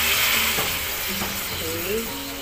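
Green beans (sitaw) for adobo sizzle in a pan after a splash of water, giving loud hissing and bubbling that gradually settles, with some stirring clatter mixed in.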